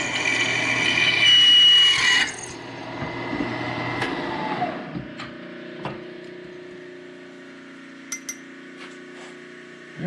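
A drill grinds loudly through a metal Ford Model T drive shaft for about two seconds, then stops; scattered clinks, knocks and light handling noises follow in a quiet room.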